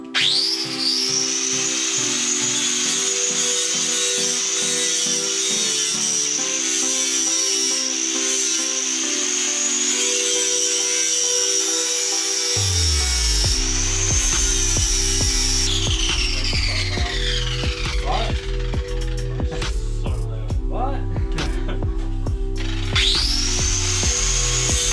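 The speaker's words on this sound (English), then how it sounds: "All nice and grinded, it's the best I could get with the big ass 5-inch angle grinder." Big 5-inch angle grinder working over repaired car body metal on a Subaru Forester, a loud sustained high whine whose pitch rises and dips as it bites and lifts off, continuing near and alone.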